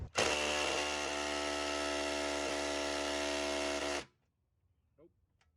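A Milwaukee impact wrench runs in one loud, continuous, close burst for about four seconds while removing front seat bolts from a Jeep Wrangler YJ at a salvage yard, then cuts off to near silence.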